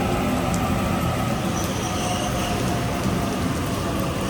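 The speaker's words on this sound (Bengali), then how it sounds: "দেখুন ট্রেন আসতেছে বৃষ্টির মধ্যে দিয়ে, প্রচণ্ড পরিমাণে বৃষ্টি হচ্ছে এখানে" Heavy rain pours down at Redfern Station in Sydney as a train arrives, a thick, continuous wash of rainfall over a low rumbling rail roar that stays loud and steady with no talking.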